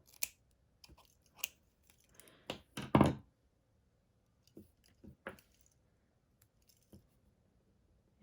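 Paper snips cut cardstock in half for a handmade unicorn birthday card, a few crisp snipping crunches with a louder cluster in the middle, close and quiet, surrounded by light handling taps and rustles.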